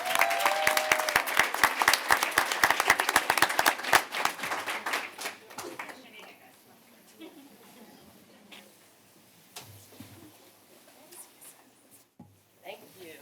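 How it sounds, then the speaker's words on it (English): An audience at a school board of education meeting bursts into loud, sustained applause that fades out after a few seconds, followed by quiet room noise and a few scattered sounds. "let's give them a round of applause"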